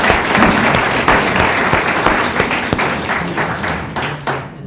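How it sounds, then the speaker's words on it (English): A theatre audience claps together in steady, dense applause at a community speaking event, loud and sustained throughout before fading slightly at the end. "Can we give them a round of applause?"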